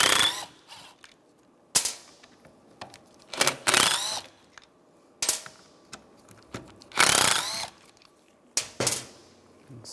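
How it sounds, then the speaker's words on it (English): Ratchet wrench with a T25 socket backing out bolts that hold the window regulator motor on a 2003-2010 BMW X3, giving several short bursts of close clicking separated by pauses, with no talk. "Use a T25 socket. Take these bolts out or screws out."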